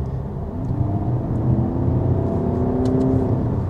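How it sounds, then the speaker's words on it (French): A Skoda Superb Combi 150 TDI diesel engine accelerates, a steady mid-pitched drone with harmonics rising gradually as revs climb, heard from inside the car with road rumble beneath. "je voulais quand même voir si le moteur diesel se faisait entendre"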